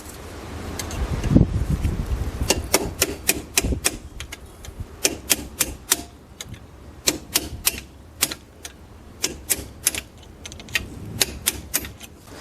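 A hammer strikes a punch to drive out the brake caliper pins on a Dodge Challenger R/T Scat Pack Widebody during front brake work. Rapid, sharp metallic taps repeat in a steady rhythm, close and with no talking.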